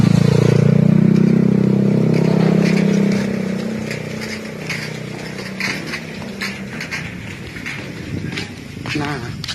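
A motorcycle engine rumbles loudly at first on a suspension bridge on the road between Toraja and Palopo, then fades as it moves away, with background noise and faint talk.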